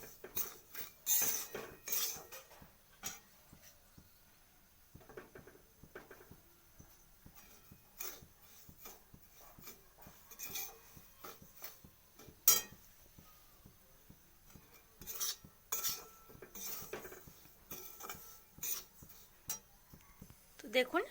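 Semolina (suji) being lightly fried and stirred in a pan for a salty suji dish: quiet, irregular scraping and clinks of a spoon or spatula against metal over about twenty seconds, with some soft background talk.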